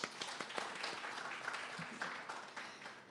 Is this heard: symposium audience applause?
yes